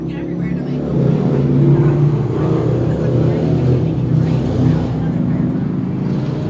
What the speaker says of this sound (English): there's some loud ass motorcycles coming over here for no reason.